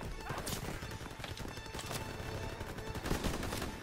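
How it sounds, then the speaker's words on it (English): Gunfire in Call of Duty WW2, a World War II shooter game, with dense bursts and sharp cracks running continuously alongside game effects and music, loud and up close throughout. "10 gunshots is not gonna bring me very far"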